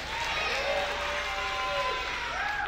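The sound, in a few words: audience cheering and making noise before a show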